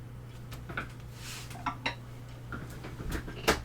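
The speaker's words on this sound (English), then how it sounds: "Rinse out the brush" A watercolor brush swished and tapped in a water jar, making scattered light clinks and splashes against the glass over a low steady hum, with no talking.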